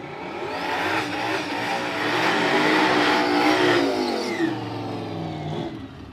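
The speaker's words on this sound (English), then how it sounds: "got a little bit of nitrous versus turbo action" Drag race cars launching side by side, a nitrous car against a turbo car including an S10, at a spring cash days event in Kentucky: loud sustained engine roar that rises and sweeps for several seconds, then fades slightly as they pull away.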